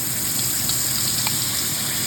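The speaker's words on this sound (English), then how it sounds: "It should start sizzling." Masala paste with cumin seeds frying in hot oil in a pan for vegetable korma, a dense, steady, close sizzle with fine crackle and no voices.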